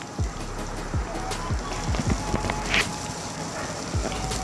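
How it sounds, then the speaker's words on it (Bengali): Chopped onion and garlic sizzle in a pan, a steady close crackle with scattered pops throughout. "পেঁয়াজ রসুনটা একটু ভালোভাবে ভেজে নিব এখন।"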